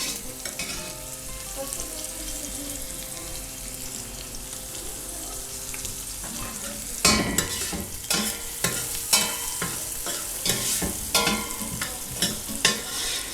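Onions with salt sizzle steadily in a hot pan, and a spoon scrapes and stirs them in repeated bursts during the second half, close up with no talking.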